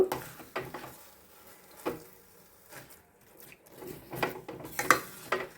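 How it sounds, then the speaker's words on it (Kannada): Wheat flour halwa with cardamom powder is stirred in a pan, with soft scraping strokes and occasional clinks of the spoon against the metal coming in irregular bursts over a faint sizzle. "ಏಲಕ್ಕಿ ಪುಡಿ ಹಾಕಿದ್ದೀನಿ ಈಗ ಚೆನ್ನಾಗಿ ಮಿಕ್ಸ್ ಮಾಡಬೇಕು"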